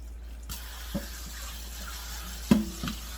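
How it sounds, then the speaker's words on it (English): A kitchen tap runs cold water steadily over freshly cut vegetables being rinsed for giardiniera, a soft continuous stream with a few light clinks and splashes, close and fairly quiet. "give them a little rinse with cold water, just like that"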